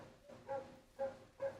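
A dog barks three times at a distance, each bark a short muffled tonal woof separated by pauses, fairly faint under a steady room background.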